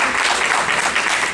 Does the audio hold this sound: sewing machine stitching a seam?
no